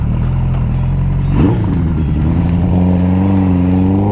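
A 1976 Honda CB550 motorcycle engine firing up after a low idle-like rumble, then settling into a loud, close, steady running note with rising revs and a throbbing exhaust.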